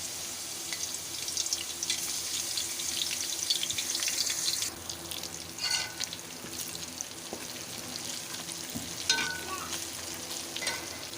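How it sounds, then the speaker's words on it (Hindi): Garlic ginger paste frying in hot ghee, a continuous close sizzle and crackle with occasional stirring and clinking of a utensil in the pan. "अब मैं इसमें डालूंगी लहसुन अदरक का पेस्ट। इसको अच्छे तरीके से फ्राई कर लेंगे।"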